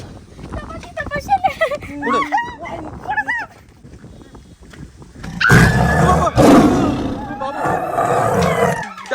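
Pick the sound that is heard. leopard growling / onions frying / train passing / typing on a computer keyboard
leopard growling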